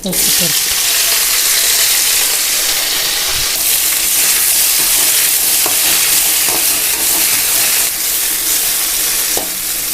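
Chopped okra fries in hot oil with a loud, dense, continuous sizzle, broken now and then by soft scraping and clicks of stirring, all close up, with no voices over it.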